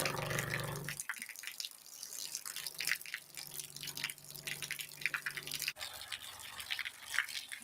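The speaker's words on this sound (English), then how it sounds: "This is just regular flowing water." Regular flowing water from a played video runs and trickles steadily at moderate level, with an irregular dripping texture and a brief humming tone at the start.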